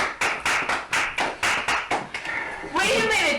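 Hands clap sharply in a quick, slightly uneven run of about ten claps, close and loud during a Dungeons & Dragons 5e tabletop session, followed by a burst of voices talking.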